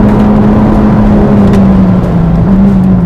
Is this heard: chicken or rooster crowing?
no